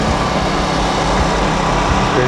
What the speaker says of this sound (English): Those are generators